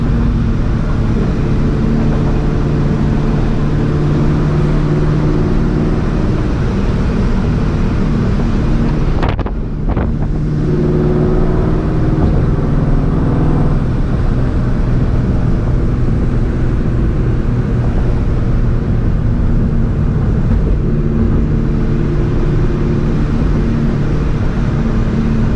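A supercharged 2004 Ford Mustang GT heard from inside while driving, a loud continuous low engine drone with rising and falling pitch and a brief gear-change dip, with heavy wind rush over it and no talking.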